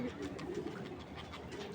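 A racing pigeon coos softly and close in a short run of low rolling notes, faint against a quiet background.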